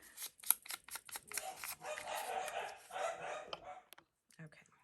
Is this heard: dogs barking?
yes